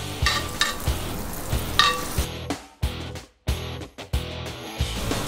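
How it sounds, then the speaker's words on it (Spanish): Butter and oil melt and sizzle in a hot frying pan before a rib eye goes in, a steady close crackle with stirring knocks and a few brief dips, no talk. "Le voy a poner un poco de mantequilla y un poco de aceite también. Voy a esperar a que se derrita muy bien."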